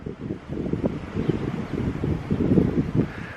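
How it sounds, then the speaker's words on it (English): Strong gusty wind buffets the microphone beside an abandoned one-room schoolhouse with a cottonwood tree, a continuous rumbling roar that swells and dips without letup. "The wind is so bad."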